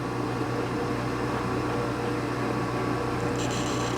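A lathe tool cuts a Harley-Davidson Sportster front wheel bearing part, a steady even whirring hum with a faint high metallic hiss, continuous and close.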